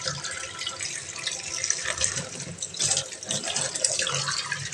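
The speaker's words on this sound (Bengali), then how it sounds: "এগুলো সব এখন আমি হালকা পাতলা ধোয়া মোছা করে কোনো রকমে শুধু রান্নার জন্য ধুয়ে নিচ্ছি" Tap water runs steadily into a kitchen basin while dishes are washed, with close splashing and a shifting flow.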